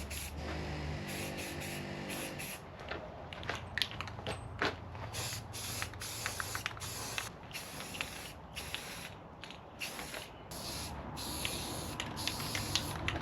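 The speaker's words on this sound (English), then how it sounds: "priming and painting it" A spray can lays primer and paint onto a steel water tank frame for a bus conversion, in a series of close hissing bursts broken by short pauses and faint handling clicks.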